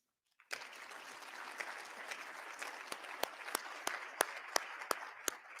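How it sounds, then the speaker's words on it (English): An audience at a small business and chamber excellence awards event bursts into applause for category winners, a sudden steady crowd clapping with sharp individual claps standing out nearby, sustained without talk. "give a round of applause to our category winners, please"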